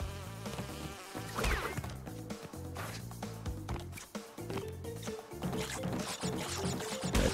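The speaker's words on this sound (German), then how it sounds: "Ja, die Biene haben wir überwunden." A bee enemy buzzes in the Crash Bandicoot N. Sane Trilogy video game. The faint drone is mixed with lively game music and scattered effects throughout.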